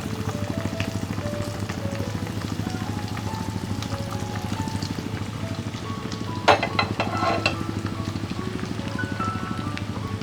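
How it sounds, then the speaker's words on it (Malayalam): A bread sandwich deep-fries in hot oil over a medium flame, a constant low bubbling hiss with a steady hum beneath and a brief burst of crackling partway through; no one speaks. "ഇനി നമുക്ക് ഓരോന്നായിട്ട് എടുത്തിട്ട് ഫ്രൈ ചെയ്യാം."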